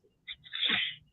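A single faint sneeze indoors, a short intake followed by a brief sharp burst, quiet and alone.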